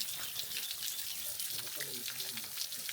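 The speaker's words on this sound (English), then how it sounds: "It's a stream like a waterfall." A stream cascades like a waterfall through a rocky canyon riverbed, giving a steady, broad rushing hiss of water with a voice talking briefly over it.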